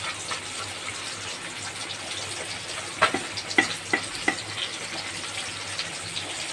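Ghee poured into a simmering potato and papaya curry in a pan, a steady low sizzle with a short burst of splashy, bubbling pops and clinks in the middle, no voices.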